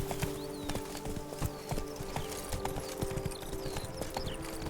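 Roach the horse gallops in The Witcher 3, a steady rapid clip-clop of hooves over a continuous ambient bed, with no talk.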